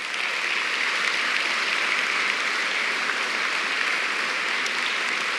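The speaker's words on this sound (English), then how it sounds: "audience, if you would please help me give them a huge round of applause" Sustained applause from a large audience for teacher of the year finalists at a school district State of the District event, a dense steady roar of clapping held at constant loudness throughout.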